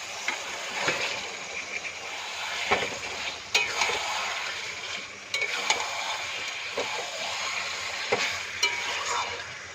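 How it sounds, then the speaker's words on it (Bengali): Chicken pieces being stir-fried in a thick spiced masala for a chicken curry, a steady close sizzle broken by repeated scraping strokes of a spoon against the pan, with no talking. "এবার চিকেনটা দিয়ে ভালো করে কষাবো।"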